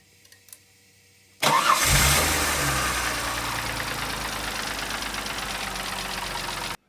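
A Holden/Buick 3800 V6 engine with the auxiliary belt removed cranks and fires after a moment of quiet, then settles into a steady close idle with a faint ticking rattle.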